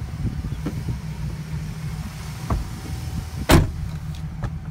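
The rear power windows of a 2012 GMC Sierra truck run under a steady low hum inside the cab, with a faint motor whir and a sharp click or thump near the end.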